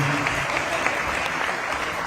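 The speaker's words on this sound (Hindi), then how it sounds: "आप जोरदार तालियों से अभिनंदन करिए।" An audience in a hotel hall at Pullman Aerocity applauds loudly, a dense, even wash of clapping filling the whole short moment.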